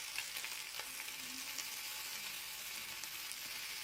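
Butter and oil sizzling in a pan for pav bhaji, a soft steady hiss with faint crackles, quiet and continuous with no talk.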